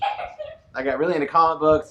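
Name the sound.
dog barking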